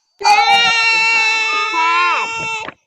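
A cat's drawn-out meow, loud and close, holds steady for over two seconds before bending downward at the end, heard on its own without talk.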